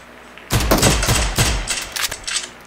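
Pistol shots fired in PUBG Mobile, a rapid burst of sharp close cracks followed by several scattered, softer shots.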